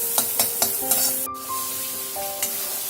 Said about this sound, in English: You add a splash of water and then keep on frying at least 10 minutes.